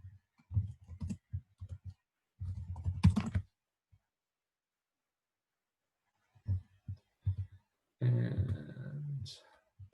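Typing on a computer keyboard while coding, heard as short bursts of quick close clicks separated by silent pauses, ending in a denser flurry of keystrokes.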